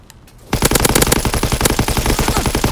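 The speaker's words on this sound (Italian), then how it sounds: "quanti cazzo di colpi devo sparare questo?" Rapid machine gun fire in a video game bursts in after a brief quiet moment, then continues as a loud, fast, steady stream of close shots to the end.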